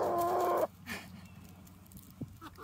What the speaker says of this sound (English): This is the sounds the chickens when they're talking.